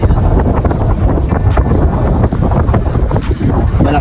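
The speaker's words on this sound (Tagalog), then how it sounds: "Yung ihip ng hangin malakas." Strong wind blowing across a seaside park pier at Cole Park in Corpus Christi, Texas, a loud steady rush of buffeting microphone wind noise that continues without a break.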